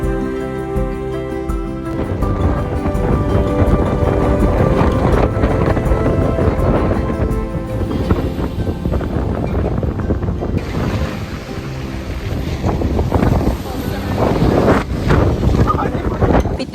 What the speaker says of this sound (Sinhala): මාරම හුළඟ.